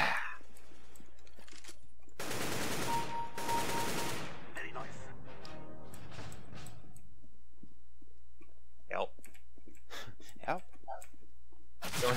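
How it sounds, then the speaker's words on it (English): Gunfire in a World War One video game: a burst of loud, rapid shots early on, followed by scattered sharper cracks and clicks later, with someone talking in between. "Someone shot at me."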